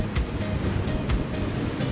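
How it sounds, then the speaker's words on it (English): Ocean waves wash steadily around a sailboat under way at night in the Caribbean, a continuous loud rush of surf and wind with periodic splashes and gusts breaking through. "Look at these waves"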